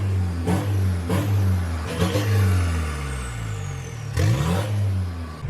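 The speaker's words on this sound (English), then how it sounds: "Wasn't revving past 2200, but now it revved." An Isuzu D-Max pickup's 4JJ1 diesel engine rumbles and revs up in repeated surges on a dyno, the pitch climbing and dropping several times, close and loud with no speech.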